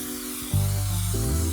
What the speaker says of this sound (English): So we need to spray it on, let it go tacky for a while,